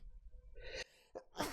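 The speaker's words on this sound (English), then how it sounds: "Hang on, I'm gonna sneeze." One close sneeze: a rising breathy intake followed by a short, sharp burst of air, heard alone.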